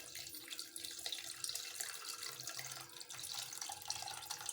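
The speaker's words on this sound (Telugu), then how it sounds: "ఇప్పుడు చింతపండు పులుసు అందులో పోస్తారు" Tamarind juice is poured into mashed roasted eggplant, giving a faint, continuous splashing, trickling liquid sound that runs steadily throughout.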